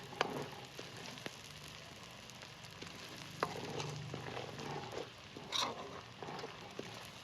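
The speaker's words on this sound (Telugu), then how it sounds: "ఇలా అయిన తర్వాత అల్లం ఎక్కువ ఫ్రై కావాలి" Ginger frying in a pan for chicken pickle gives a quiet, continuous sizzle with scattered pops and crackles and occasional stirring clinks.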